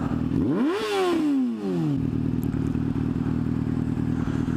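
A Yamaha R6 sport motorcycle with an aftermarket exhaust revs sharply up and then winds back down through its gears, followed by a steady rumbling idle.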